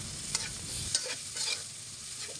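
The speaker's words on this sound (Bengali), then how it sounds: "এখন পেঁয়াজ রসুনটাকে খুব ভালো করে কষিয়ে নেব" Chopped onion, garlic and green chilli with a little salt sautéed in a pan, a close, steady sizzle punctuated by several spatula scrapes and clacks as the mixture is stirred.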